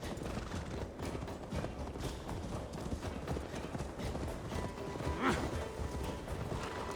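Horse hooves clip-clop in Assassin's Creed Valhalla, a steady trotting rhythm close by that continues through the whole stretch, with a short neigh near the end and game ambience and some voice underneath.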